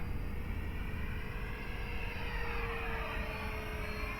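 A Habu 70mm electric ducted-fan RC jet on a 3S battery flies slowly at reduced throttle, giving a steady, moderately distant whine and rushing hum that holds constant throughout without pauses.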